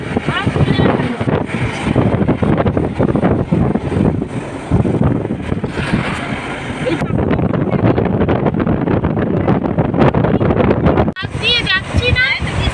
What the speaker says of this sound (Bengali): পাহাড়ের হাওয়াটা আসছে।